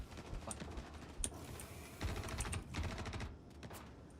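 Gunfire in a multiplayer shooter video game, scattered rapid bursts of shots and sharp cracks at low level, some clustered volleys, set against quiet background clatter.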